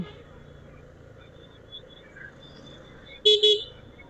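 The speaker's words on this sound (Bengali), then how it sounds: "বাবুল এত হর্ন মারিস না, কানে লাগতেছে" Vehicle horn honking on a congested road during a trip, a short double burst near the end rising above steady road rumble and faint talk.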